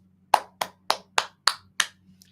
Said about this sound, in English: Yes, you get a round of applause for that one.